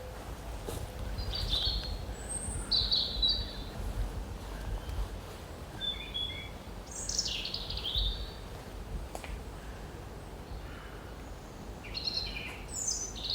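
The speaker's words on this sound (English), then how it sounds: "Tiny little bird like a robin making such a distinctive, kind of sounds jolly too." A robin sings in short, high, tumbling phrases at intervals, fairly faint over a soft outdoor hiss.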